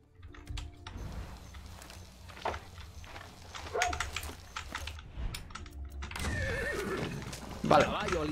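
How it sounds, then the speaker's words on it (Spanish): A horse whinnies in the video game Far Cry 6, with clopping hooves and other game effects mixed under a talking voice. "Caballo al instante. Qué buen caballo."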